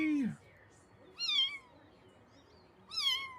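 A cat meows three times with short rising-falling calls spaced about a second apart, near and fairly loud, with a person's voice briefly at the start.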